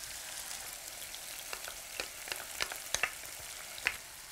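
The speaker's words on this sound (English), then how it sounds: "Now fry this mixture for 2 minutes and then add the garlic." An onion mixture sizzles and crackles steadily in a hot frying pan, with occasional sharper pops and stirring scrapes over a constant hiss, fairly quiet and close.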